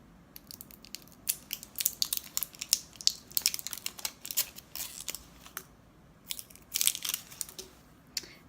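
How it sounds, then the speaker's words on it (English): Plastic casing is peeled back from a whitening pen, giving close, crisp crinkles and snapping crackles in irregular bursts with short pauses between them, with no voices. "So you just kind of peel back the plastic."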